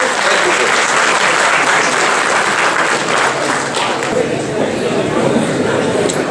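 Loud, dense applause from a student audience at an RTI session fills the room and holds steady throughout, with no pause.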